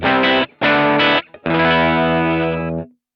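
A distorted electric guitar crunch tone from a Kemper amp running a liquid profile, gain and EQ matched: two short chords, a brief gap, then a longer sustained chord that fades out, loud and alone.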